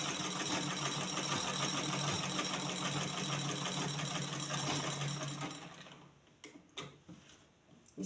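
A sewing machine stitching a seam, a rapid steady mechanical whirr and ticking that runs for several seconds before stopping, followed by a few faint clicks and handling noises.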